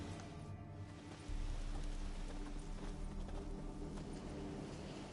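Roach the horse's hooves clip-clopping in The Witcher 3, a steady trotting beat close by over a low rumbling background.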